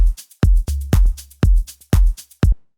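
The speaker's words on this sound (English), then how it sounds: "Ping pong delay, a little bit of feedback," Deep melodic-house drum hits in a steady pulse, each followed by quick ping-pong delay repeats with some feedback that bounce back and fade, with a low boomy tail underneath.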